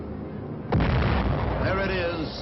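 A radio-guided aerial bomb strikes its target, a sudden loud blast followed by a long rumbling roar that fades slowly, with a voice partly heard underneath.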